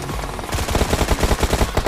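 A loud, rapid burst of automatic gunfire from a mobile shooter video game, the shots a fast, even rattle that keeps going to the end.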